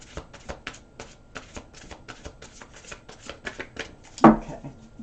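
Rapid clicking of cards being shuffled, a fast string of crisp taps, ending in a louder soft thump as the deck settles.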